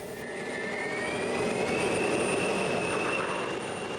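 A military bomber's jet engines roar loud and steady at close range, a broad sustained rumble with a rising whine over it that persists throughout without pause.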